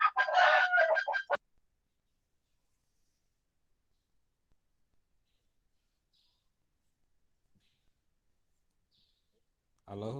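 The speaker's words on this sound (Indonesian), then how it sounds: "di belakang sekolah ini ada ayam-ayam ya" Chickens kept behind a school cluck and crow in a short burst at the start, followed by a long near-silence and a faint sound at the very end.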